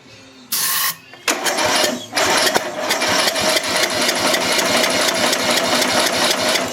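A small engine on an LT1000 lawn tractor, running with no carburetor, sputters to life and runs in a rapid, rattling, steady chug, loud and close after a brief burst and pause.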